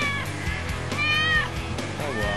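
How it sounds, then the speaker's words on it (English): A cat meows in a Spider-Man video game, high drawn-out mews rising and falling twice over steady game music and ambience, with voices nearby. "My kitty's way up there and I can't get him to come down."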